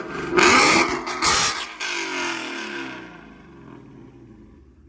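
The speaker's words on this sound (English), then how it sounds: "He also has Corsa Extremes, but this is a Gen 3 Mustang, so it sounds a little bit different" A Gen 3 Mustang with Cook's long tube headers and Corsa Extreme exhaust revs hard twice in loud, raspy bursts up close, then drops back to a rumbling idle.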